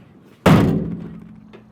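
A door swung shut to test how it lines up with the adjoining door, giving a single close, heavy thunk that rings and fades over about a second.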